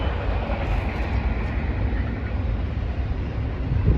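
A steady, heavy rumble with a broad roar continues throughout, like a train rolling past nearby without letting up.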